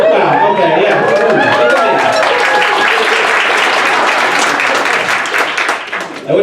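A comedy club crowd at Helium Philly breaks into a loud, dense round of applause mixed with cheering and chatter, holding steady for several seconds before thinning out at the end.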